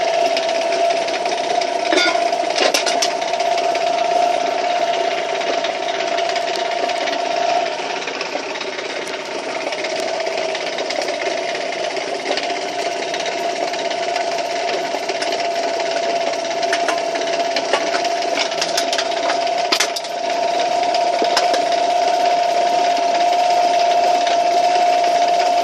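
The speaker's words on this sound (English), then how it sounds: "Motor's making weird sounds, so we're going to put one can in and see how it does." A homemade rock can crusher machine, its motor making odd sounds, runs continuously with a loud steady whine and mechanical rattle, with sharp clacks and knocks as a single can is fed in and crushed.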